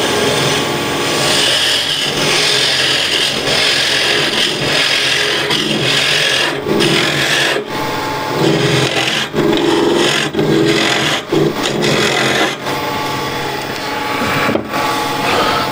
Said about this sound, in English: And I'm going to hollow this out quite quickly.